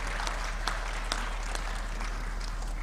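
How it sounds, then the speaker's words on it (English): Applause from a Sunday satsang audience after a devotional Ramayana katha performance, a steady moderate patter of many hands clapping continuously, with a low constant hum underneath. "Let's give him another round of applause."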